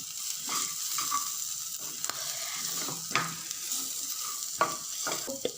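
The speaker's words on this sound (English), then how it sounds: "I'm going to nicely saute this thing." A peri-peri bell pepper mixture with coriander and salt sizzles steadily in a pan, and a utensil stirs it with occasional sharp scrapes and clinks. The sound is close and has no voices.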